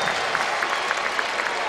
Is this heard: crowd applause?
yes